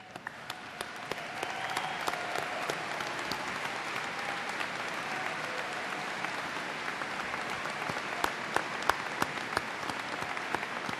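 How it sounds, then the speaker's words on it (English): A commencement crowd gives new university graduates a sustained round of applause at a spring ceremony, with dense, even clapping and sharp individual claps standing out throughout. "give one more round of applause to our new graduates, please"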